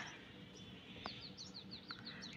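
A small bird gives a quick series of thin, high chirps, faint and close, in an otherwise quiet room.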